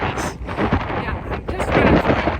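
Strong wind gusting across a microphone on a mountain trail in the Pyrenees, a rough, buffeting roar that swells and dips in uneven gusts, loud and close throughout.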